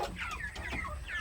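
Egg-laying hen clucking in short, close, repeated bursts while pecking at feed on a small chicken farm, with no talk.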